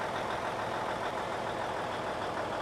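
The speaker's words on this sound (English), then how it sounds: "Loud tractor. Warning for any headphone users. Loud tractor. Loud truck, actually." A loud truck engine in a farming video game drones steadily at a constant level throughout, with no speech.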